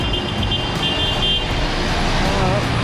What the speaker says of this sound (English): We'll let the bus go through.